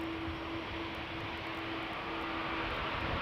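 The GE CF6 engines of an Airbus A330-200 at Schiphol's Polderbaan runway give a loud, continuous roar with a steady whining tone running through it, heard alone with no talk.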